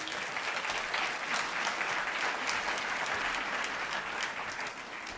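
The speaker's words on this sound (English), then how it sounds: "Give Alistair a round of applause." Conference audience at the SNP annual conference applauding the Minister for Climate Change, a steady, dense wash of clapping from a large hall that holds evenly for several seconds with no talking.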